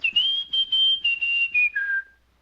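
A woman whistles a short tune in a Rocky and Bullwinkle cartoon, a clear single melodic line of about eight notes that slides downward at the end, alone and close.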